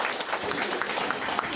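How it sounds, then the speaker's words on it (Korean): A lecture audience gives a brief round of applause for two invited speakers: a short, fairly faint burst of many hands clapping at once. "큰 박수 부탁드리겠습니다"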